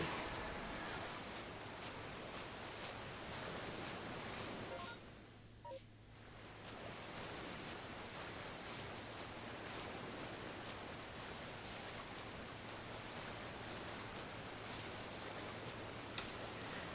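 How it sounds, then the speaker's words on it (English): Steady, faint wash of water in Pokemon Legends: Arceus, a continuous surf-like hiss that dips briefly before returning unchanged. "Liquid water."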